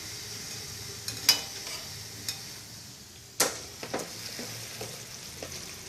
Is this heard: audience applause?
no